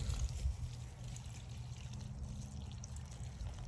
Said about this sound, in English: I'll pour some in there, pour the water all around